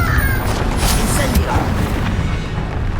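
A Bombarda blasting spell detonates in the Hogwarts Legacy video game, a loud booming burst amid continuous battle noise and clanking effects, with crisp magical zaps and rumble layered over a dense, noisy mix.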